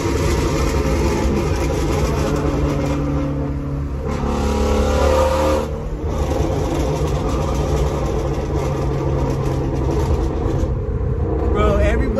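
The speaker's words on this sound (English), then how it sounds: "From the passenger seat, bro, this is the loudest car I've heard." A 2018 Shelby GT350 Mustang engine rumbles and revs, heard from inside the cabin from the passenger seat, a loud, low, continuous drone that swells and eases.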